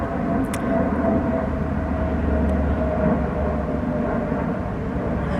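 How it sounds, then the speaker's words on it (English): An airplane passes low overhead, a loud, sustained broadband roar and rumble that fills the whole stretch without easing, with no voices over it. "oh my god, that plane is so close."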